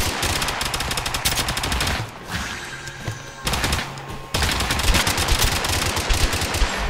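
Loud, continuous automatic gunfire in Totally Accurate Battlegrounds, with dense rapid bursts that break off briefly in the middle and then resume just as hard. The shots are close and dominate, and no voices are heard.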